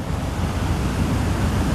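Steady roar of rushing river water, a dense broadband rush that is loud and constant, with some wind buffeting on the microphone and no talking.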